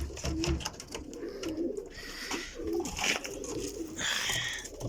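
Several show pigeons in a fancier's loft in Kotli, Azad Kashmir, cooing repeatedly at close range over steady background noise and bright high-pitched chatter, with soft low coos recurring throughout.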